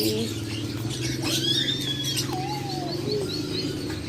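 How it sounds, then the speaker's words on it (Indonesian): Birds chirping and calling at the Pramuka bird market, several sweeping whistles and tweets over a steady hum of market noise, moderately near and clear. "Sekarang kita lagi ada di Pasar Burung Pramuka"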